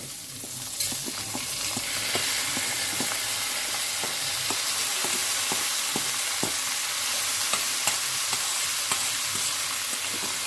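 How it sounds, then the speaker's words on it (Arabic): Rice poured into a pot of hot fat and stirred, with a steady close sizzle and frying hiss and repeated sharp scraping clicks of a spoon against the pot throughout, no voices. "حط الرز كله اهي كده"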